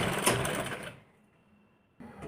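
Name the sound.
sewing machine stitching blouse piping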